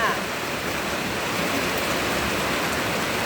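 Steady, dense hiss of rain falling, constant and fairly loud throughout with no pauses.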